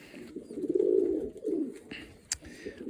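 A pigeon's low, throaty coo rises and falls close by, followed by a few softer murmurs and a brief rustle; homing pigeons at a loft.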